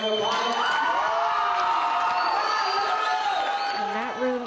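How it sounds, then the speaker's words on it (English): A large indoor audience bursts into loud cheering, whooping and shouting, a sustained crowd roar with a few voices standing out above it. "give this guy a great big round of applause"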